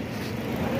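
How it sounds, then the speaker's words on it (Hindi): A truck from Islamabad pulls up, its engine rumbling low and steady at close range, growing slightly louder at the end. "ये गाड़ी आ गई इस्लामाबाद वाली।"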